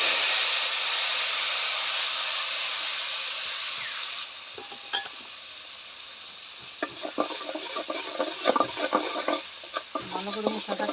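Onions dropped into hot oil for a fish curry with gourd, a loud hiss that settles into an uneven crackle with bursts of stirring and spatula scraping toward the end.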